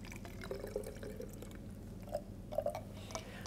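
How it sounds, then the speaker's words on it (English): Water pours steadily into a plastic bottle that has two holes cut in it, giving a continuous close trickle and splash with a few brief gurgling drips. "I am going to pour water inside this."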